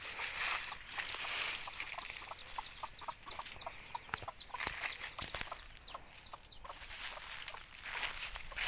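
Chickens cluck on a farm near a pond, with short repeated calls scattered across the scene over a steady outdoor background and occasional louder bird calls.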